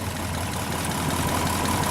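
A 1930 Cord L29 engine idles steadily under the open hood on the exhaust manifold side, giving a continuous, even low rumble at close range with no talk over it.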